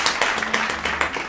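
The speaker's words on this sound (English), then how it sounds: "let's give my brother a round of applause" Brief applause for a brother during a London prewedding photoshoot, a short burst of several claps in an uneven rhythm lasting just over a second, fairly close.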